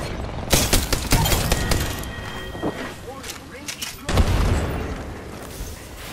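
Gunfire in the Apex Legends video game comes in rapid bursts of sharp shots mixed with heavier booms, with a few seconds of quieter action between the volleys.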